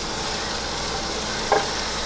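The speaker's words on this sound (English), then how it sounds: "Okay, our onions and our garlic continue to sweat." A Vidalia onion and garlic sweat gently in a pan, giving a steady, soft sizzle throughout with one brief utensil clink near the end.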